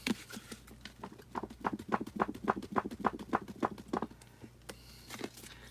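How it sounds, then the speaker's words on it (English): Paint scraped from the bottom of a paint barrel by an artist: a quick run of rhythmic scraping strokes, close and moderately loud, slowing and stopping near the end. "That is the sound of me getting all the paint down to the bottom"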